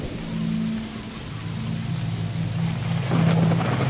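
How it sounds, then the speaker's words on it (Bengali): Heavy rain pours in a steady hiss while thunder rumbles low, with a sharper crack of thunder near the end, set under a soft sustained musical drone. "এই সময় সঙ্গী বলতে শুধুই বজ্রপাত, ঝড় বৃষ্টি"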